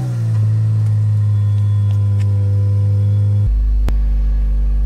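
A BMW E46 with an M52/M54 straight-six, freshly flushed and refilled with oil, idling with a steady low rumble, then a brief sharp knock as the engine note drops and settles into a deeper idle.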